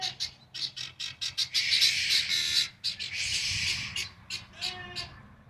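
Guinea fowl at a farm barn give a rapid run of harsh, repeated squawking calls, loud and close, with several birds overlapping in busy bursts.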